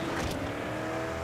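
In a racing video game, a McLaren 600LT Spider accelerates with a steady, loud engine roar, the pitch held high and close throughout.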